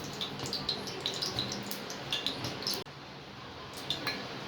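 Cooking oil poured into a pan holding whole spices like cinnamon, cloves, star anise, cardamom and fennel for Muslim-style kuska biryani: a soft, steady trickle broken by light metallic clinks and taps, close by, with no talking.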